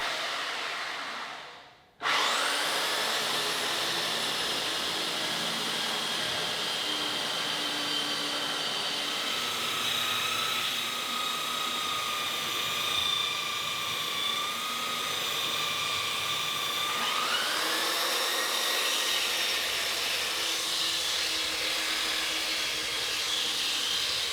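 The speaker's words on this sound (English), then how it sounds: "finish the area that the drum sander couldn't get with the belt sander, which can get tight up against the wall" A belt sander grinds across a fir floor close against the wall, a loud continuous whirring roar with a steady high whine that briefly dips near the start and shifts pitch slightly later, with no talking.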